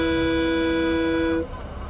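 A lower, twangy blue question mark alert tone from the game Underrail rings out as a sustained harmonic tone for about one and a half seconds, then cuts off into quiet background.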